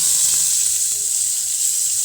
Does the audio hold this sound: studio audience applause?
no